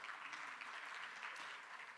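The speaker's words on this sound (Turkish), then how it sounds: "alkışlarınızla davet ediyorum" An audience at a business conference claps for a CEO called to the stage, producing a steady, dense wash of many hands that stays faint and continuous throughout with no voices over it.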